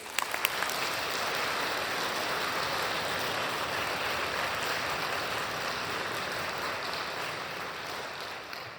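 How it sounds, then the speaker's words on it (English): Audience applause for the conductors at a spring youth orchestra concert, a steady, evenly dense wash of clapping from a large crowd that holds for several seconds and tapers slightly at the end. "let's give one more round of applause to our conductors"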